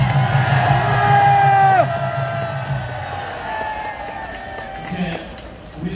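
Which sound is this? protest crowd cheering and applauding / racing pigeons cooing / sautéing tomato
protest crowd cheering and applauding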